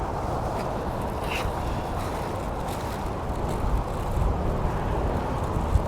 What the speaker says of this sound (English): it's right by the highway, so you can hear cars nonstop